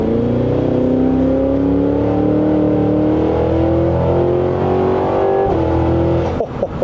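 A Cadillac Escalade V SUV accelerating at full throttle from 40 to 80 mph, heard from inside as a loud, sustained engine roar climbing steadily in pitch, with a shift near the end, no talking.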